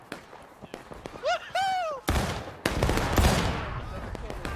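Musket fire in the Civil War game War of Rights: several sharp, loud reports crack out irregularly rather than as one volley, over game noise and a brief whistling tone, with a voice shouting in the mix.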